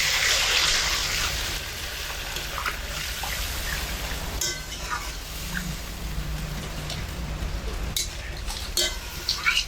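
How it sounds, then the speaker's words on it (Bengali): Lukewarm water is poured into a pan of soybean and potato curry, a steady splashing pour that settles into a lighter trickle with faint clinks of cookware. "এখানে আমি হালকা উষ্ণ গরম জল দিয়েছি"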